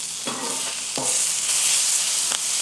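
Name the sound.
peppers blistering and sizzling in a pan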